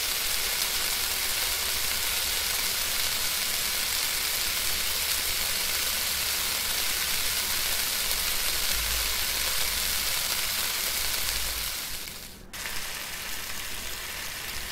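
Food sizzles steadily on a cooktop in the Cooking Simulator video game, a dense, even hiss with no voices that breaks off briefly near the end before resuming a little quieter.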